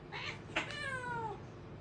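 A single drawn-out cat meow, close and fairly loud, with a gliding, wavering pitch that falls away after about a second, from a cat being held at a veterinary clinic.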